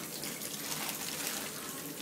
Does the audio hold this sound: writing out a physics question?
no